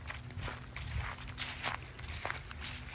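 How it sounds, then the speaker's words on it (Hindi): Footsteps crunch through dry fallen autumn leaves on an outdoor fall walk in America, with repeated close, crisp rustling steps and no talking. "आपको पत्तों की भी साउंड आ रही होगी"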